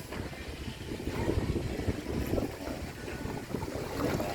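A boat moves along a river, with a low engine drone mixed with splashing and wind noise at a steady level.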